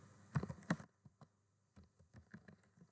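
Short burst of keystrokes on a computer keyboard, a quick cluster of clicks followed by a few scattered lighter taps, quiet and close in an otherwise still room.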